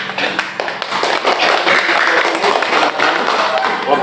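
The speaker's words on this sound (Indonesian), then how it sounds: "Kita berikan aplaus dulu untuk" A classroom group claps for group 1, dense rapid hand clapping from many people close by, steady for several seconds.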